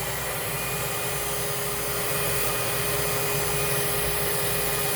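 A Lindhaus Healthcare Pro vacuum cleaner runs at steady suction with a bag fitted, giving a constant broadband whoosh with a faint high whine, unbroken throughout and alone with no talk.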